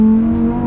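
Lamborghini Huracan Tecnica with a naturally aspirated V10, a loud, close, steady engine drone with a strong low tone held for under a second.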